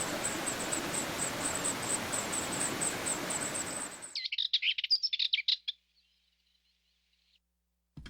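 Birds chirp and tweet in Grande Alvão scrubland, a cluster of quick high-pitched calls ringing out clearly after a broad rushing noise suddenly cuts off, followed by a few fainter scattered chirps.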